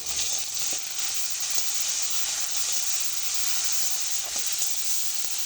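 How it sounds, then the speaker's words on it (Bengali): Ginger, garlic and cumin paste with salt, turmeric and chili powder frying in a pan, a loud continuous close sizzle with light stirring ticks and no talk. "মশলাটা আবার খুব ভালো করে ভাজা হয়ে গেছে।"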